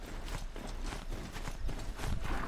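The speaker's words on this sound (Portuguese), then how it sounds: "Ou o cavalo anda ou ele corre." A horse's hooves beat in a steady clip-clop rhythm while it runs across terrain in the video game Horizon Zero Dawn, moderately loud and close, with no talk over it.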